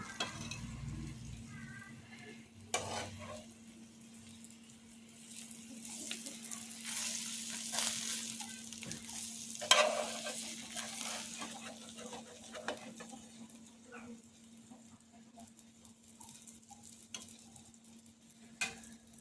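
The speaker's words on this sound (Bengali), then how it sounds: "ওগুলো আস্তে আস্তে করে ভাজা হবে" Soft, steady sizzling of prawn parcels wrapped in bottle gourd leaves frying slowly in a pan, with occasional stirring scrapes and a faint continuous hum underneath.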